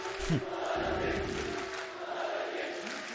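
Arena crowd at a Valorant esports playoff match, VCT Champions Istanbul 2022, a steady broad roar of many spectators that swells and holds throughout, with a faint tonal hum underneath and no clear speech.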